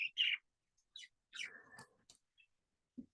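Pet birds chirping indoors in a quiet room: a few short, sharp tweets and calls scattered sporadically, close by, with silent gaps between them.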